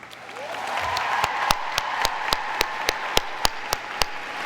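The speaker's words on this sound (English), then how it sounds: "Will our graduates please acknowledge their family and friends with a round of applause?" Applause from family and friends at a college of public health graduation ceremony, a steady wash of clapping with a few sharp, louder claps standing out in a regular rhythm near the microphone.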